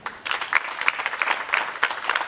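Audience applause at a youth and culture event, a steady close patter of many hands clapping at once, moderately loud and lasting about two seconds with no talking.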